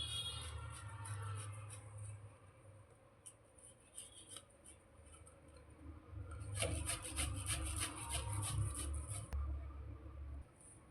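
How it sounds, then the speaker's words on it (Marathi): Potato is grated by hand for paratha, a faint close scraping and rasping in quick repeated strokes that grow busier near the end. "बटाटा किसून घ्यायचा आहे चुरडून घ्यायचा नाही आहे"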